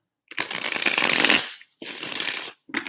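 Tarot cards riffled in two quick bursts of shuffling, close and crisp, the first a long flutter of about a second and the second shorter, with the start of a third at the end.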